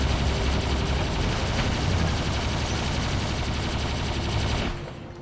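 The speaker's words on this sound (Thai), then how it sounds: "ปืนอะไรวะเนี่ย อ๋อชูเรเดอร์ชูเรเดอร์เสียงมันรัว" Shredder machine gun in the War Robots mech combat game firing in a rapid, dense burst, loud and continuous for about five seconds before cutting off abruptly into quiet.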